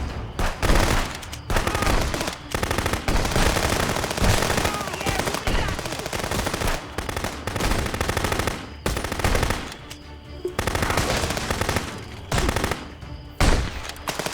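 Heavy gunfire in a shootout with police at a sawmill in the video game Contraband Police, with sustained loud automatic bursts and overlapping shots filling the scene and no clear pauses.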